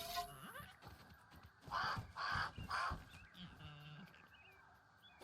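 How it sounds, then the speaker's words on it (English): Harsh honking bird calls from a crow in the video game Grounded, three loud repeated caws in a row, with other game sounds in the background. "Man, that crow."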